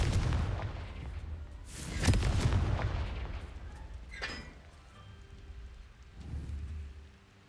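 Explosive Confringo spell blasts in Hogwarts Legacy: a heavy booming burst with rumbling debris, a sharper crackling blast a couple of seconds later, then a softer thud, each trailing into a low rumble.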